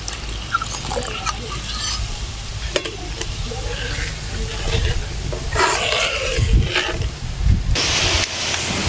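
Mustard and poppy seed paste simmering and starting to boil in a pan for an eggplant dish, with steady sizzling, bubbling and occasional stirring scrapes, while a person talks over it.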